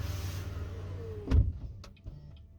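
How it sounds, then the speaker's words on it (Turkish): The power tailgate of a BYD Seal U closes: a steady electric motor whine runs, then a solid thud as it shuts, followed by a few faint clicks as it latches. "Şimdi kapanıyor."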